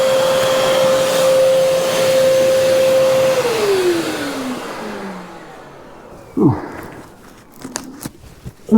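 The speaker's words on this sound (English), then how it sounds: "That vacuum cleaner is very, very loud." A very loud shop vacuum hooked to a miter saw roars steadily with a constant whine, then winds down and fades, followed by scattered clunks and handling noises.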